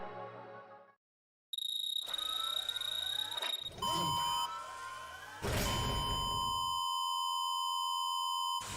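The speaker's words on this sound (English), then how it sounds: "That beep." Repeated electronic beeping in the Danganronpa: Trigger Happy Havoc video game: pure sustained tones and stacked beeps in several bursts, with a short silence early on and a long held tone at the end.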